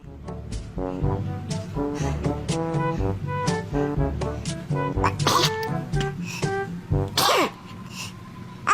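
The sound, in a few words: baby sneezing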